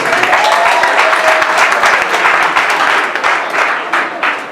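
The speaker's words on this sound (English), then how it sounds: "Clap for yourself." Local government staff clap loudly for themselves at a handover ceremony, a dense, continuous burst of many hands close by that tapers slightly toward the end, with a voice faintly beneath.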